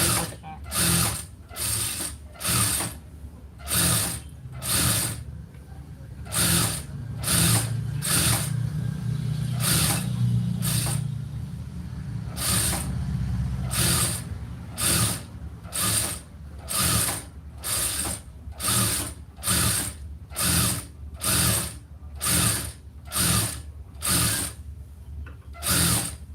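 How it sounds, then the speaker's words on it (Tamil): A sewing machine stitches a fold down over a cross piece of fabric with a regular mechanical clacking, roughly one stroke per second. A brief continuous motor run breaks the rhythm partway through, then the steady clacking resumes close by. "இப்போ நான் மேலே ஒரு படிமான தையல் போட்டேன்."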